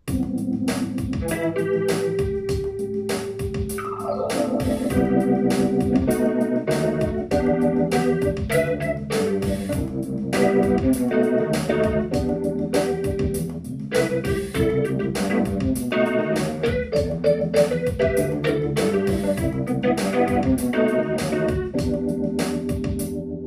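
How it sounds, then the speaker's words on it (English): Mellow Fender Rhodes electric piano chords blended with a rotary speaker effect on a Korg Kronos, swirling organ-like warble, playing a steady rhythmic pattern at moderate volume with no voices. "there's a blend of a rotary with the Fender Rhodes"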